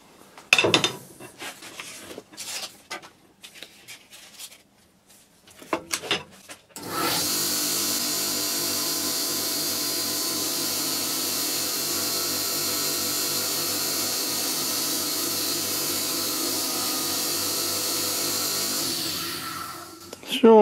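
A grinder or power tool smoothing a burr off a metal part, a steady loud whirring drone lasting about fourteen seconds after a few short bursts and clatters, then spinning down.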